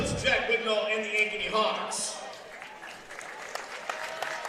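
A packed gym crowd at a high school wrestling meet between Ankeny and Ankeny Centennial applauds and cheers loudly. The noise fades slowly as an announcer talks over it.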